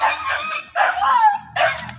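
A dog gives three separate sharp barks close by, each a short burst with brief pauses between, and no talking over them.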